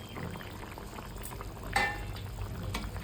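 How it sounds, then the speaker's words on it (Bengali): Tangra fish curry gravy at a rolling boil in a pan, a soft, steady bubbling seethe with a few brief louder pops and clinks, close but quiet, with no one talking. "এবার এখানে ঝোলটা ফুটে এসছে, এবার মাছগুলো আমি দিয়ে দিলাম"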